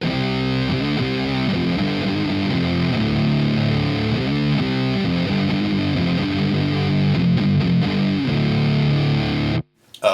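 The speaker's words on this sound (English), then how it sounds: "So it sounds way more kind of thick and almost kind of like a fuzz tone." An electric guitar played through a VFE Focus pedal, boosted into a thick, fuzz-like distorted tone, rings out loud and continuous with sustained chords for nearly ten seconds before cutting off abruptly.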